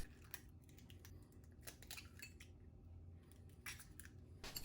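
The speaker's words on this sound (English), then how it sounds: "in a bowl crack 4 eggs" Four eggs cracked into a bowl for tortilla de patatas: a string of faint, sharp taps and crisp cracks at an uneven pace, close but quiet, with no talking.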